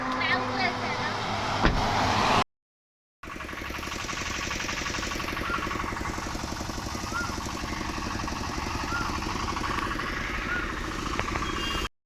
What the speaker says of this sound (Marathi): गाडी